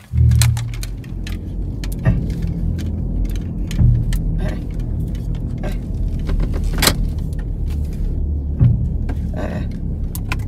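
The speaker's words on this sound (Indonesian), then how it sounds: "Mobil saya mogok langsung." A car engine stalls and fails to start, giving repeated low rumbling cranking bursts with clicks and a faint jangle of keys, close and fairly loud, with no talking.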